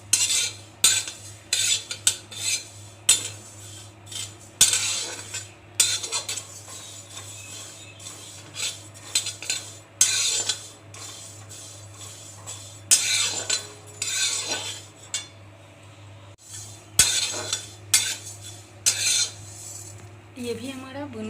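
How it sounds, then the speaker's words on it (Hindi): Cumin seeds roast in a pan while a metal spoon scrapes and clinks repeatedly, irregular stirring bursts over a faint steady hum, with a quiet sizzle in the background and no talking. "जीरा को भी अच्छा इस महकाने तक भूनेंगे।"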